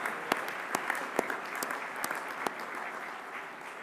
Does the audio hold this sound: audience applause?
yes